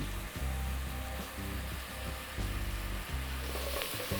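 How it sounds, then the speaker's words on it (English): Onions sautéing in rendered pork fat in a single pot for chili colorado, a steady, dense sizzle that holds close and loud throughout, with faint low clatter of the pan underneath. "we've got our onions already sauteing in our pork fat"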